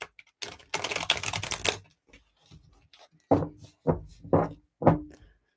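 Tarot cards being shuffled, a dense rapid riffle of flicking card edges in one burst, followed by several separate soft taps and knocks as the deck is squared, close and fairly quiet.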